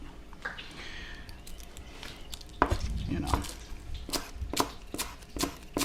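Knife slicing avocado into thin julienne strips for avocado toast, a few soft taps and squishy cuts on a board, close and fairly quiet, spaced irregularly.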